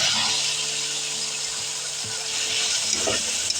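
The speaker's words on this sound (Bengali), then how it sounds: "মশলা কষানো হয়ে গেছে এখন কচুর বইগুলো দিয়ে দেবো" Taro root pieces added to a spice paste already fried in a pan for a taro and hilsa fish curry: a continuous close sizzle with a few soft knocks and stirring scrapes near the end.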